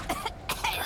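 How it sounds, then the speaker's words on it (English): A woman in the game Dishonored 2 gives a few short, rough coughs in quick succession, close and fairly loud. "What exactly were you coughing with at that point, lady?"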